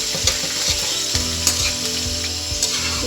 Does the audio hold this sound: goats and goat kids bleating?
no